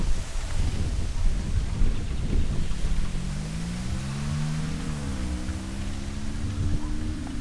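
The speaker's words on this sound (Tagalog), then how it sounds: "Sarap ng hangin po, no?" Wind blows across an open farm in the Philippines, a loud buffeting rush against the microphone that is gusty at first, while an engine-like tone rises and wavers partway through.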